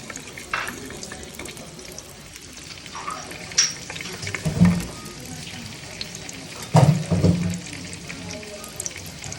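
Whole garam masala and a bay leaf hit hot oil in a clay pot, giving a soft sizzle with a few sharp crackling bursts and spatters, heard close with no talking.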